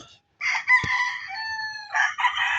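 Chickens and a rooster on a farm, a loud close crow rising and holding, followed by more crowing and clucking bursts, with faint background noise.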